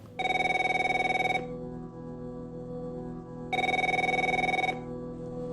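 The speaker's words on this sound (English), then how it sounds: "No matter how many times you try, and no matter where you call, Representative 81 Steve Horn won't answer the phone." A telephone rings in two long, loud bursts of a harmonic electronic bell tone, each lasting just over a second, separated by a pause with a steady low hum underneath.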